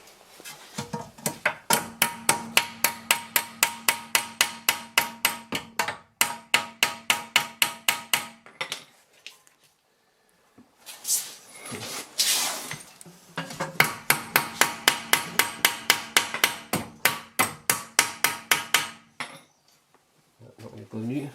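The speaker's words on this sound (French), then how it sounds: "je vais y aller avec le marteau sur l'écrou" A hammer strikes a nut on the lower suspension arm of a 2006 Mercedes C200 CDI in long runs of fast, sharp metallic blows, close and ringing, with a pause of scraping and clanking between the runs.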